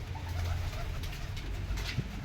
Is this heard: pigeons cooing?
yes